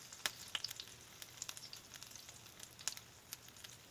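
Olive oil sizzles softly in a pan after meat has been fried, with faint scattered pops and crackles over a quiet, steady hiss.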